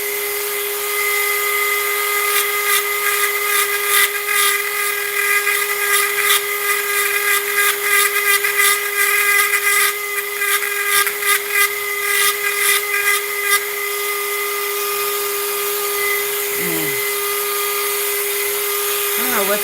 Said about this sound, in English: I don't know what's going on with my Dremel.